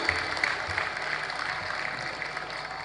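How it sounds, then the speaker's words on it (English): An audience at a youth political conference applauding, a steady wash of clapping at moderate distance, fairly soft, with faint voices underneath. "Please give him a round of applause"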